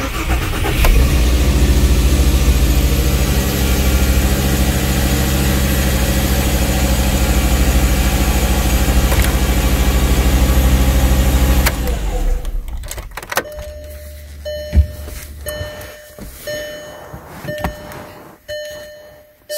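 A Ford-family car cranks and catches, then idles at a steady mid-pitched hum for about twelve seconds before the engine shuts off, leaving quiet interior clicks and faint beeps.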